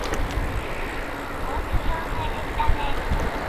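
Road traffic rumbles past a cyclist on a rural Japanese road between Nagato-Futami and Yoshimi, with low engine drone and passing vehicles under steady wind and road noise, loudening briefly a few times.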